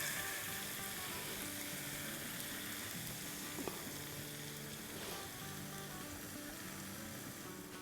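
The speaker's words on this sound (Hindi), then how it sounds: "आलू को फैला देंगे और अंडे इस तरह से डालेंगे" Beaten eggs poured over potatoes sizzling in a pan on a medium flame, a faint, steady hiss of frying with one brief clink partway through and no talking.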